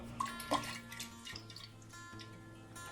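Filtered well water is poured onto salt in a jar for fermenting tomatoes with garlic and basil, giving a few soft, close splashes and drips early on, then fading into quiet trickles over a faint tonal background.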